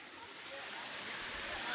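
A waterfall running with a fairly low flow of water pours in a steady, close, full rush of broadband noise that swells slightly toward the end, with no pauses.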